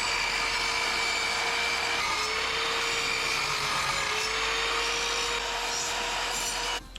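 Wood battens being cut with a power saw, a steady loud buzzing and grinding cut that runs continuously before stopping abruptly at the end.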